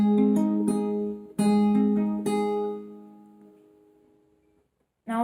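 Fingerpicked acoustic guitar from a song, bass note and second string plucked together and then fourth, third and second strings in turn, a few clear plucked chords ringing out and fading to near silence before one last pluck.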